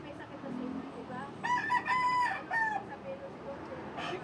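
A rooster crows once, loud and drawn out, over a background of low murmuring and ambient noise.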